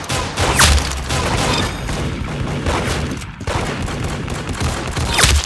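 Bursts of gunfire ring out in a steady volley of sharp shots, moderately loud and sustained over several seconds, with little talk over them.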